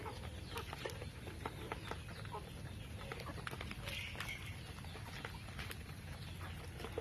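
Free-range native country hens gathered outdoors at feeding time, with scattered soft clucks and scratchy pecking sounds over steady outdoor background noise, the birds moderately distant and quiet.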